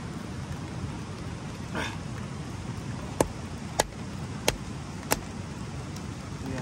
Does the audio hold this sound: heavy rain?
yes